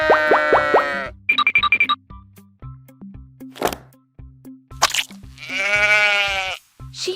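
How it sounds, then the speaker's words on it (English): Sheep bleat loudly and close by in long, wavering calls, the first at the start and another near the end, separated by short clicks and pops. "They make the sound baa"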